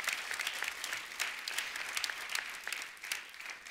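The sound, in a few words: audience applause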